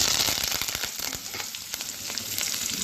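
Shallots, green chilies and curry leaves sizzle in hot oil while making a drumstick flower poriyal: a close, steady, dense hiss of frying with scattered small crackles and pops throughout, and no voices.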